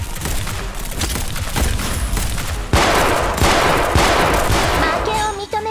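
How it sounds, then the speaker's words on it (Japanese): Rapid bursts of automatic gunfire and sharp shots in the video game Girls Frontline, loud and dense, growing heavier partway through, with a faint voice underneath. "射撃開始。"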